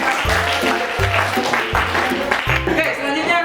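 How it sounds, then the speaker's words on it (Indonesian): Classroom applause for a student group that has just finished presenting, a dense, steady wash of clapping mixed with overlapping voices, loud and continuous throughout. "tepuk tangan dulu untuk kelompok"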